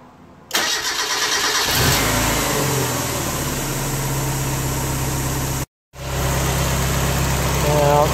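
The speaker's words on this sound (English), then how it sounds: "then you're gonna start it up and immediately check for any leaks" A car engine cranks and catches after a fuel leak repair, then settles into a steady, close idle that cuts out briefly and picks up again.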